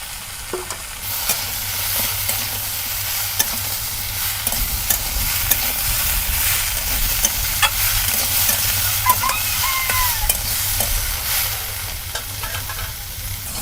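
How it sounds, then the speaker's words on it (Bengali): Banana and tilapia curry with mustard paste being stir-fried in a pan, a steady close sizzle with frequent scraping and stirring clatter throughout, no voices. "আর 1 থেকে 2 মিনিট এটা ভালোভাবে কষাই করব"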